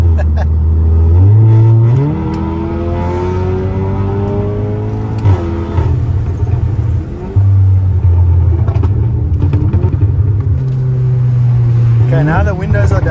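A modified Volkswagen Golf 7.5R with a loud aftermarket exhaust, heard from inside the car as the engine revs up and drops back in repeated surges, the deep drone booming close and loud.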